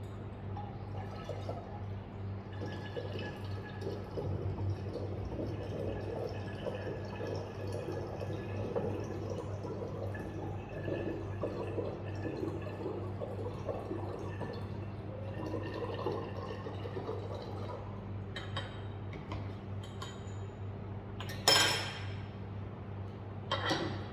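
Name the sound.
deionized water filling a flask to the 1000 ml mark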